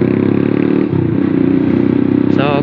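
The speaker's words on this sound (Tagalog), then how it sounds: "kani ang motor is Explorer 250 version 2 ni sa Motostar" Motorstar Explorer 250cc V2 motorcycle engine runs with a loud, steady close-up thrum, a rhythmic low chugging idle with a brief higher whine near the end, someone speaking over it.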